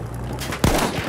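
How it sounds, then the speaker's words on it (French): Enemy machine gun fire in the Battlefield 1 Conquest match on the Soissons map: a sharp gunshot crack followed by a short burst of rapid shots amid battlefield ambience, with no talk. "Mitrailleuse ennemie"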